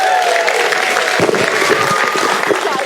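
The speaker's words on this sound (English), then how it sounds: "Give a round of applause" Audience applause at a live comedy show, a dense wash of clapping from a crowd that runs steadily throughout, with a few voices mixed in underneath.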